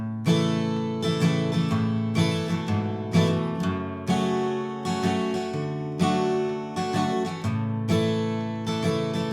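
Strummed guitar plays a full verse of a song, steady rhythmic chords with repeated percussive strokes, loud and close, with no talking.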